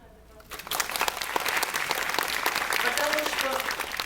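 An audience at a cinema talk screening for a Korean documentary film bursts into sustained, dense clapping after a brief quiet moment, steady and fairly loud throughout with faint voices mixed in.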